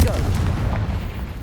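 A single Confringo spell explosion in Hogwarts Legacy hits as a loud, close, booming blast that fills the brief moment with a heavy rumble.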